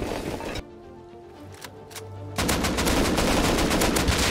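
Automatic gunfire in a first-person shooter game, a short burst, a brief lull with scattered single shots, then a loud sustained rapid volley up close.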